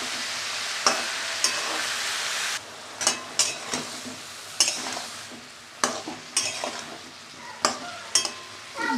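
Broccoli, potato, carrot, peas and paneer are stirred and sautéed in a pan, with a steady sizzle broken by repeated close scraping strokes of a spoon against the metal.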